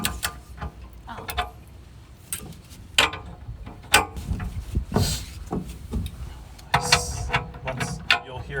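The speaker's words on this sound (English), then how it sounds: "Once you'll hear it click once you get it" A torque wrench set to 60 pounds ratchets and clicks while tightening bolts on a Gen 3 Andersen Ultimate Connection hitch, sharp repeated clicks at close range, with people talking intermittently.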